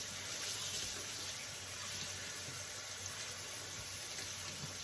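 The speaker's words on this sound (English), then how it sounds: "So you rinse them off real good when you use them out the can." Tap water runs steadily over canned pinto beans in a sink, a continuous hissing flow with no talk.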